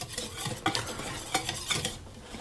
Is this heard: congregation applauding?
no